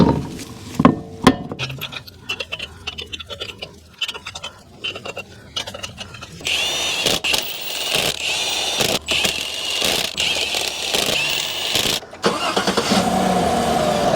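A GM 5.3L V8 in a Chevy or GMC full-size truck cranks and catches after a new starter goes in, settling into a steady, fairly loud idle that runs on alone, with a few clinks from tools nearby.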